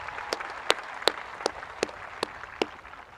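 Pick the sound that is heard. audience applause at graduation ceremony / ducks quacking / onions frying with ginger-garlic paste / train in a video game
audience applause at graduation ceremony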